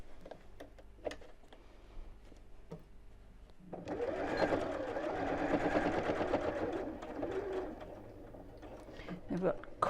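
Sewing machine running steadily for several seconds as it stitches across fabric through all layers, a close, continuous whirring hum preceded by a few faint clicks while a person talks quietly before and over it.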